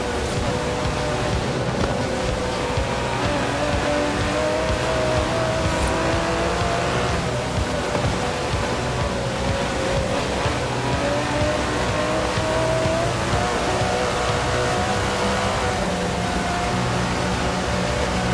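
An Aston Martin DB11 with a 5.2-litre twin-turbo V12 drives in the video game Forza Horizon 4, a steady engine hum with shifting tonal lines beneath a wash of road and wind noise, moderately loud and without talk.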